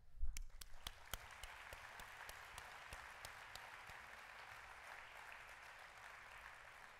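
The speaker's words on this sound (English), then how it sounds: "I ask everyone to join me in a round of applause to express our deep appreciation" An audience at a pharmacy education conference's opening general session gives a round of applause. It starts with a few distinct claps, thickens into steady, fairly faint clapping from a large crowd, and keeps going throughout.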